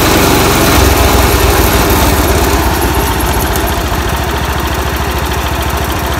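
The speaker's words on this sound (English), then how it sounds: "This friggin' thing is idling." The engine of a 1978 International Harvester Cub Cadet 1000 lawn tractor, run after sitting 20 years, idles loudly and steadily close by, a rapid putter with a rough, buzzing edge throughout.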